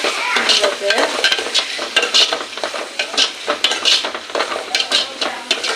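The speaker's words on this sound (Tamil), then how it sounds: "அந்த எண்ணெயிலே நல்லா வதங்கட்டும் அப்படியே எண்ணெய் விட்டு சேர்த்து சூப்பராக வரும்" Green turkey berries (sundaikai) sautéing in hot oil, a steady close sizzle broken by repeated scraping stirs of a utensil against the pan, with no talk.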